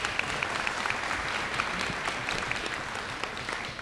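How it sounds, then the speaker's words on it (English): Steady audience applause fills a spring signing ceremony for student athletes committing to play college sports, a continuous dense clapping with no voices heard over it. "Give her a round of applause."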